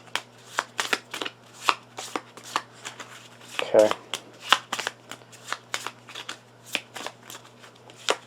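A deck of cards is shuffled by hand in repeated quick riffles and bridge-like bursts, close and crisp, with a brief spoken word partway through.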